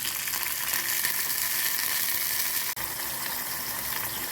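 Garlic, ginger and green chillies fry in hot oil for veg Manchurian, giving a steady, loud sizzle throughout with a brief dip near the end and no talking.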